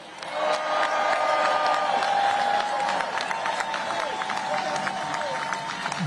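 A crowd at a Labor Day workers' protest march in Chicago cheers and whoops steadily, sustained and fairly near, with scattered claps and shouts running throughout.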